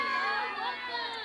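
A crowd at an Islamic religious gathering (jalsa) roars back in unison to a Takbeer chant call, a dense, loud wall of massed voices sustained without a break.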